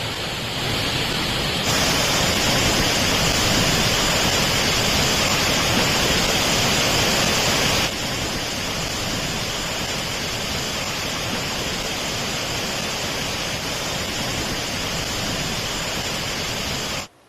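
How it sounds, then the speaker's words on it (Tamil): Courtallam's main waterfall in flood after heavy rain roars as a dense, continuous wall of rushing water, loud and unbroken for the whole stretch, with no voices over it. "குறிப்பாக குற்றாலத்தில் பெய்த கனமழையால் பிரதான அருவியில் வரலாறு காணாத காட்டாற்று வெள்ளப்பெருக்கு ஏற்பட்டது"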